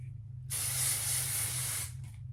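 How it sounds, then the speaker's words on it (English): A burst of wig wax spray hisses steadily from an aerosol can onto a synthetic shag-cut wig for about a second and a half, close and fairly quiet, with a faint low hum underneath. "I do think maybe like a little wig wax spray"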